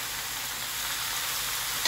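Mushrooms and tomatoes frying in a pan over high heat give a steady, continuous sizzle, close and moderately loud, with no talking.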